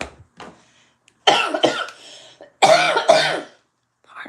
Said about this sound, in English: It's just a dry, dumb, stupid, unproductive cough.